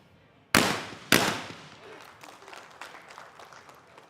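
Two sharp, loud shotgun blasts half a second apart at a women's junior skeet final in New Delhi, each hitting a target, followed by a polite crowd cheer and applause from the background.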